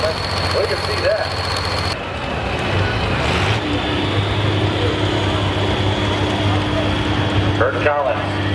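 An International tractor engine runs steadily at a truck and tractor pull, a low droning rumble with a constant hum, with wind noise over the microphone and brief shifts in the background.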